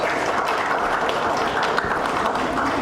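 A seated audience stands and claps in thanks to an organisation's executive, sustained, dense applause filling a hall without pause.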